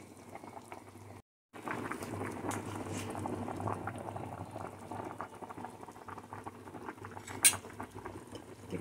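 Zucchini soup with beef and siling labuyo chili bubbles at a steady boil in a pot, a soft continuous simmering churn with faint clinks, briefly cut to silence once, and no talking over it.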